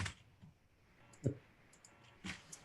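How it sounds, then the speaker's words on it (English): Unexplained faint clicks during a computer screen recording, a few sparse sharp ticks spread across a quiet background with no talking. "it's almost like something is clicking"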